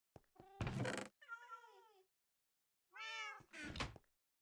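Two cats meow in the Minecraft GTNH modpack, four short, clear meows in two pairs separated by a pause, with a soft thunk at the start.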